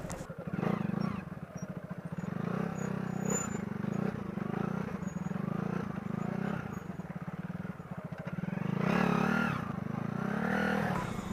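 Motorbikes labour up a 50 to 60 degree slope on a forest mountain trail near Toli Peer in Kashmir, engines droning and revving steadily throughout and swelling louder near the end, with no voices.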